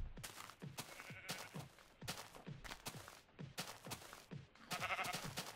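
Minecraft sheep bleat repeatedly in quick, evenly spaced nasal calls, faint and a little distant, stacking up in a steady rhythm with no talk over them.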